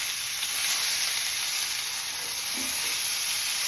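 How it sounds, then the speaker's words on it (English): Steak sizzles loudly and steadily in a hot pan right after being flipped, a dense, even hiss with no talking. "4 minutes after, we are flipping steak"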